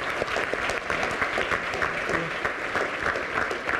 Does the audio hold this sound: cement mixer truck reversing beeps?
no